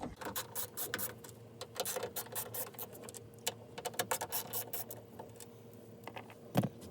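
A 7/32 socket tool removes small screws from a truck door speaker, with faint, rapid ratcheting clicks and light mechanical taps, close but quiet, with no talking.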